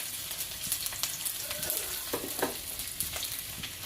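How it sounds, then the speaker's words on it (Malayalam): Ginger sizzling in hot oil with already spluttered mustard seeds for a mango pickle, a constant fry with scattered sharp pops and crackles, close by and without talk. "കടുക് പൊട്ടിച്ച് ഇനി അതിലോട്ട് കുറച്ച് ഇഞ്ചി ഇടുക"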